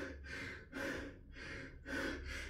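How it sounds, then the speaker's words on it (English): Heavy, ragged breathing after a brutal assault air bike HIIT session, three deep gasping breaths close to the microphone in a slow, labored rhythm. "See how heavily I'm breathing."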